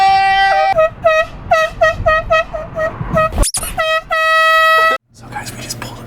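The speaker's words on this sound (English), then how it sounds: "Something about an air horn on a cloudy day." Air horn blasts on National Air Horn Day outside an old high school, a string of short honking toots then a long held blast, loud and close, with people talking in between.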